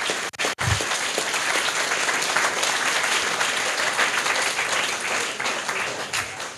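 An audience at a closing presentation of a youth hackathon in Cologne applauds loudly and steadily, a dense wash of many hands clapping that continues for several seconds and tapers slightly at the end.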